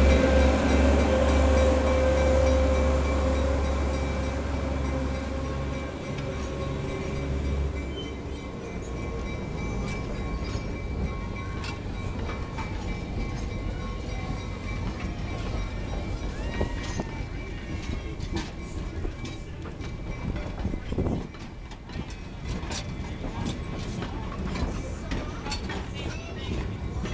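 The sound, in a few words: narrow gauge train approaching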